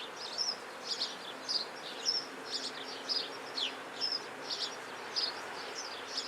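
Honey bees bearding outside a hive inside a concrete block garage wall fill the air with a soft, continuous buzz, with individual bees zipping close past in regular brief passes.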